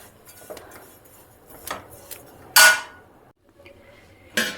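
Chickpeas and coconut roasting in a pan, with intermittent crackles, light clinks and a couple of sharp bursts of sizzle and scraping, close and fairly loud, without talk.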